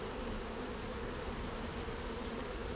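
Honey bees buzz around an open hive during a spring inspection, a continuous, even drone from many insects close to the microphone, with no voices.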